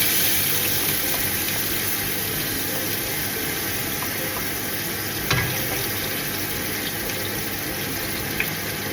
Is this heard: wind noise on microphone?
no